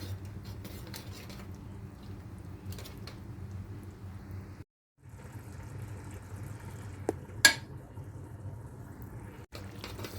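Olive oil, onion and lemon-parboiled liver stirred together in a marinade in a pot: a steady low scraping, stirring churn with scattered utensil clinks against the pot, one brief pause and a sharper metallic knock near the end.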